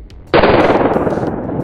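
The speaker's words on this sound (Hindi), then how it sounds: "हमारा बीडी बम फटने वाला है" A bidi bomb firecracker goes off in well water with a sudden loud burst, followed by a sustained, rough crackling roar that stays strong to the end.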